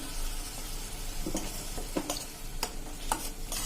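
Tomato paste frying in a hot pan, a soft steady sizzle broken by scattered taps and scrapes of a spoon as it is stirred, close and moderately quiet, with no speech.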